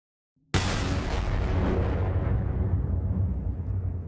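A pack-a-punched pistol in a zombies video game fires with a sudden massive blast after brief silence, then a sustained roaring, crackling wash that slowly fades over several seconds.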